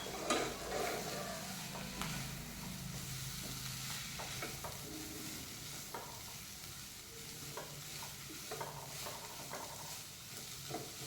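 Paneer and coriander masala sautés in a pan for a veg gatti roll, giving a soft, steady sizzle broken by repeated scraping and clinking stirs. The sound is quiet and close, with no talking.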